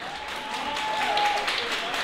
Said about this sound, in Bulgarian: Аплодисменти искам да чуя за моя приятел Коко Паносян.